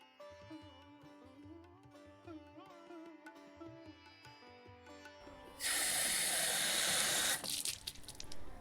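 Water from a tube well pours onto a home vegetable garden, a loud, steady rushing splash that begins abruptly after soft background music and lasts about two seconds.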